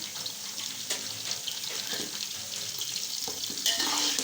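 Curry leaves dropped into light-brown frying onions for chana pulao, a steady close sizzle with stirring scrapes and a brief louder hiss near the end.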